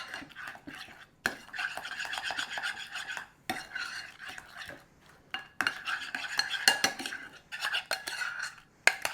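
Sloppy joe mixture with garlic powder is stirred in a pan, a utensil scraping and clinking against the metal in steady repeated strokes, close and moderately loud, with a few brief pauses.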